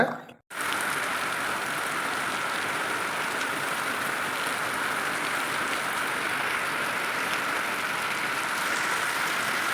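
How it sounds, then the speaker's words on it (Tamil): Steady rain pattering down evenly after a brief silent moment at the start, a constant soft hiss with no talking. "சரி மழை எப்படி வருதுன்னு பார்த்துக்கலாம்"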